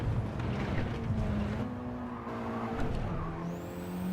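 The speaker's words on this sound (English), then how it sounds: "Rev it just to the point it gets to the top." A Mitsubishi race car in Gran Turismo 7 at the Red Bull Ring, its engine droning steadily and rising in pitch as it revs toward the limiter, continuous and fairly close.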